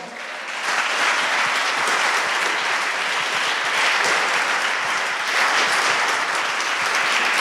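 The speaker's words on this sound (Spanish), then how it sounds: "Levántele un fuerte aplauso al Señor." A church congregation claps loudly during a worship service, with dense and steady applause that swells in after a brief start and holds for the rest of the clip.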